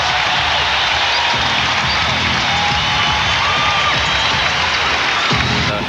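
A home basketball crowd at an NBA game roars with sustained cheering, clapping and whoops, loud and dense throughout with scattered shouts.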